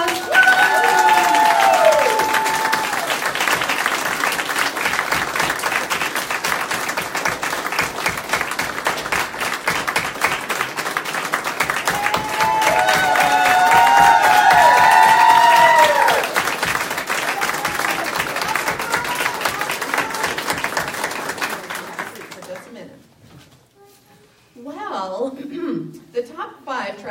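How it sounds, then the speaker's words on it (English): Sustained audience applause with cheering at a live results event for the Great Galesburg Shake 2018 as the top five finalists come forward, loud and dense for about 22 seconds before fading into quieter sounds. "Please, let's give them a round of applause."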